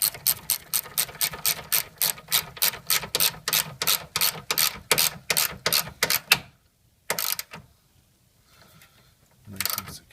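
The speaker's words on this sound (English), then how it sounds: "We're just grab our 10mm socket and just tighten them down." A ratchet with a 10mm socket tightening bolts during a radiator replacement on a Ford Explorer 4.0L, rapid rhythmic clicking close up for about six seconds, then a pause and a few more short bursts.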